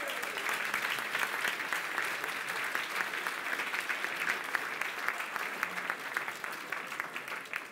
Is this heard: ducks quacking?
no